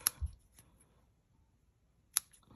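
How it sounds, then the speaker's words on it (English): Scissors snipping off a piece of material: two sharp, close metallic snips, one at the start and another about two seconds later, with faint handling noise in between. "And then I'll snip this off"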